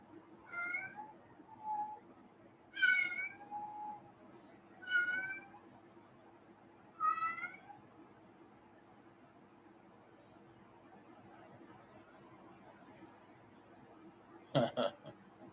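A cat meows four times in the first half, clear, fairly close and separated by short pauses, then the room falls quiet apart from a faint hum before a brief sharp sound near the end.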